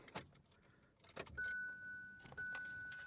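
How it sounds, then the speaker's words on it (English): Keys jangle and click in a car's ignition and the ignition is switched on, followed by a steady electronic chime tone that sounds twice in a quiet interior. "if we turn our ignition on"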